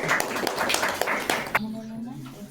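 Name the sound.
applause for a student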